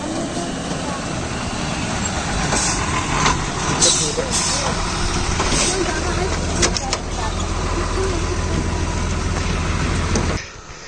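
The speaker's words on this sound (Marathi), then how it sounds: "गाडी आली वाटतं" A bus engine rumbles close by as the vehicle arrives and idles, with a steady low drone, brief hissing bursts like air brakes, and people talking nearby before the sound cuts off near the end.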